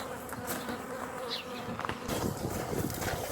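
Honeybees swarm and buzz steadily around small hive boxes outdoors, a dense continuous drone with individual insects passing close by.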